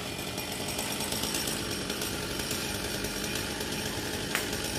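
A chainsaw cuts through a coconut tree at the Ông Trạng temple, its engine roaring loud and steady at close range with no break for the whole stretch.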